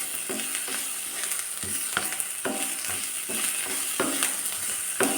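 Sliced onions fry with cumin seeds for chana masala, a bright continuous sizzle with rhythmic scraping stirs every half second or so, near and steady, no voices.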